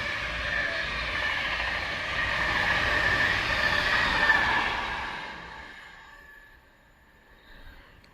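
A Class 390 West Coast train passes on the West Coast Main Line at Bushey: a steady rushing roar with a whining tone builds, peaks at mid-distance, then fades away, with no talking.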